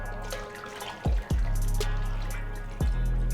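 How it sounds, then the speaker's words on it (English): Shoe dye poured into water and stirred while dyeing Adidas ZX 4000 4D shoes: a few close, brief splashes and sloshes over a steady low background, with no talking. "So I'm just gonna dump this in there and start stirring."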